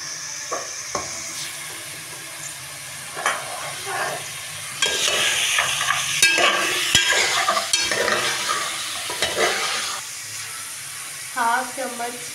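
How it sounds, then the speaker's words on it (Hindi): Chicken roasting in a pan for korma, stirred with repeated scraping strokes over a steady sizzle, with louder frying bursts midway and quieter stretches near the end. "चिकन डालेंगे रोस्ट होने के लिए।"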